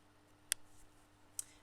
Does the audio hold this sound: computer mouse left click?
yes